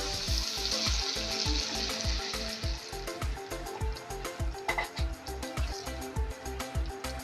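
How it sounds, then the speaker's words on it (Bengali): Water hits a hot pan of chilli paneer with a loud hissing sizzle that eases into steady bubbling, while a regular low thumping rhythm runs underneath. "এবার আমি জল দিয়ে দেবো।"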